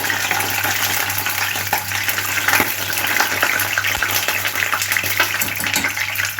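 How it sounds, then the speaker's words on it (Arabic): Eggplant frying in a pan of ghee and oil, a dense steady sizzle with occasional stirring scrapes, loud and close throughout. "عشان البتنجان بياخد وقت في القليه"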